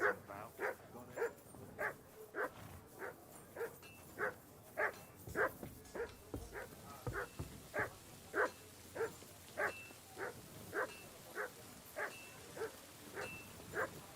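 A dog barks in Kingdom Come: Deliverance 2, a long run of steady, evenly spaced barks at close range over faint background ambience.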